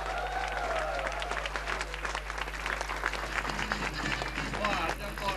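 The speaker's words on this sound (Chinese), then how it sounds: "我们热烈掌声欢迎我们的 CG" A seated audience breaks into sustained, dense applause that welcomes an executive director onto the stage, with the clapping staying loud and even throughout as voices murmur underneath.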